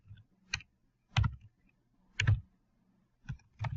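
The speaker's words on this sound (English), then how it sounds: "We're going to type in here Geneva," Clusters of computer keystrokes tap out in short, separate bursts, close and clear against a quiet background, as a place name is keyed into a map search bar.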